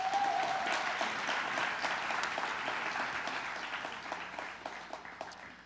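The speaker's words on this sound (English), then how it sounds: "So let's give them one more round of applause." Audience applause at a conference session, a dense, steady clapping from a crowd that slowly tapers off over several seconds, heard alone without talk.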